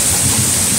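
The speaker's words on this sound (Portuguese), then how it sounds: "Chovendo bastante, pessoal." Heavy rain pours steadily during a storm in Brejo Santo, in Brazil's Cariri region, with a low rumble of thunder running under the dense, loud hiss.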